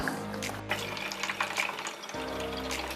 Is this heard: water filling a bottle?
yes